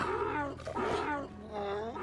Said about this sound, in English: That sounds like Wookiee.